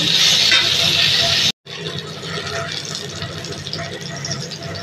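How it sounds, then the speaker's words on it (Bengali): Young jackfruit frying in mustard oil in a kadai, giving a loud, continuous sizzling hiss that cuts out briefly and then resumes while a person talks over it. "এঁচোড়টা ভাজা ভাজা হচ্ছে।"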